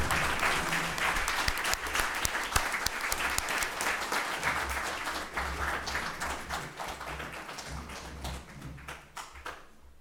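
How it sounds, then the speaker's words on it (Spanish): An audience at a tribute event applauds steadily to welcome an author to the table, with dense close clapping that slowly thins toward the end. "Ahora vamos a invitar al autor a que se una a esta mesa, por favor, con un fuerte aplauso."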